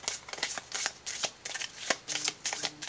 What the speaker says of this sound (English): Shuffle the discard deck and pull.